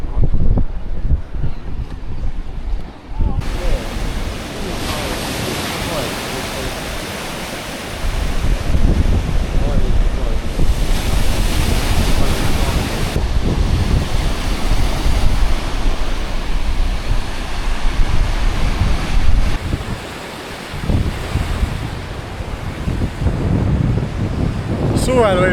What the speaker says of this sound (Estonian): Mõnus lained, surfarid panevad seal taga.